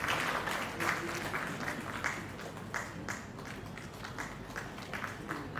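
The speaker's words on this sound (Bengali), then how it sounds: "একটু জোরে করতালি চাইছি সকলের তরফে।" Steady applause from a seated crowd at the Rai Nattotsob 2026 inauguration in Raiganj, moderately loud hand clapping running continuously without pause.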